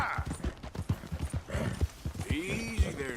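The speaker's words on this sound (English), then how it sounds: "Hey, that's a nice-looking horse you have there." A horse in Red Dead Redemption 2 clip-clops in quick, steady hoofbeats over the whole stretch, close and clear, while a voice talks over it.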